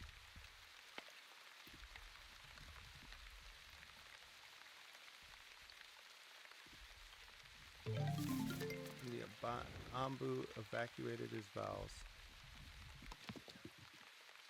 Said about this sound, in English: Oh, it's starting to rain.